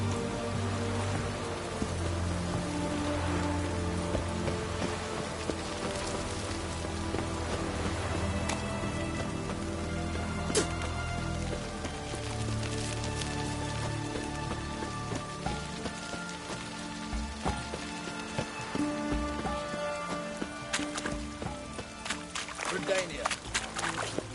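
Rain patters steadily over surfaces in The Witcher 3: Hearts of Stone, a continuous wet hiss under a music score and voices speaking, with a few sharper droplet hits and a faint rumble now and then.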